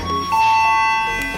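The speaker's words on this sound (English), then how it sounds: "That's the doorbell." A short electronic doorbell tone in a Four Seasons Orlando resort room, a steady pitched chime held for about a second, loud and close.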